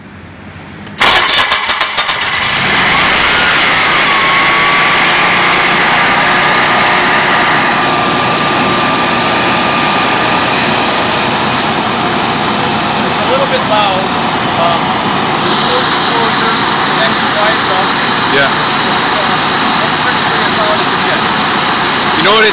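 A whole-home natural gas standby generator cranks and catches, then settles into a steady, loud, close running drone that holds for the rest of the stretch, with a brief voice or two over it.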